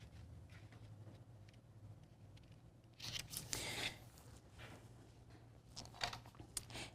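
Scissors cut through a sheet of paper, trimming it to fit a small cutting mat; quiet snips and crisp rustling bursts sit close against a hushed room.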